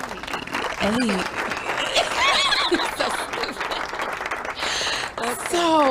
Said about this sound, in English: Can we get a clap on that one?